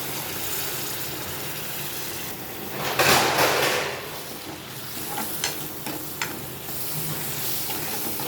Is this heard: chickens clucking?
no